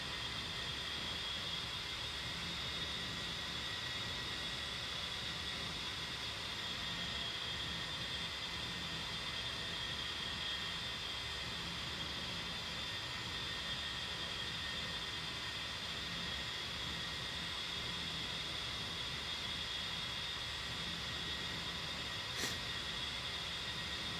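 A jet engine in the DCS flight simulator game throttles up, giving a steady, continuous roar with a constant high whine that holds evenly throughout.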